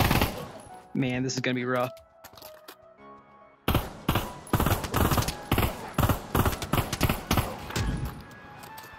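Rapid gunfire from random weapons in Pavlov VR, with sharp repeated shots that begin after a short spoken line and continue in quick, close bursts.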